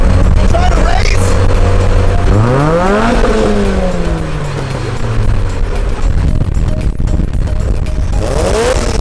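Turbocharged Honda EK hatchback racing past loud and close, engine revving up through gears with rising and falling pitch sweeps, a Doppler-like pass, then another approach near the end.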